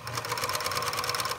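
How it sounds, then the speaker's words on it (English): An old Singer 14U52A serger runs with the pedal pressed to chain out thread, giving a fast, even mechanical whirr with a rapid stitching rhythm, close and continuous for a moment. "You can either hold the chain and hit the pedal and chain it out like this."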